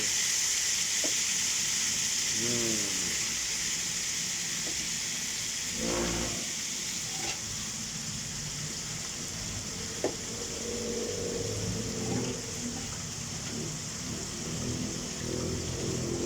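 Vegetables for Ilocano pakbet sizzle and fry in a pan, a steady close hiss running throughout with a few faint clinks and stirring sounds, no talking.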